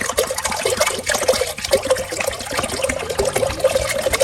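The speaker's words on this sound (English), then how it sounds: "And we put the water" About 1.5 liters of water poured into a cooking pot for homemade chicken stock, a steady, fairly loud continuous gush with a slight trickling texture and no talking.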